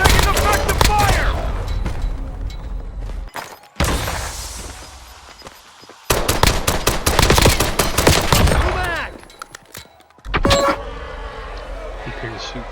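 Dense gunfire in the Halo video game: rapid automatic bursts and heavy shots crackle loudly in waves, broken by brief pauses and a vehicle-like rumble, with game voices calling out over the battle.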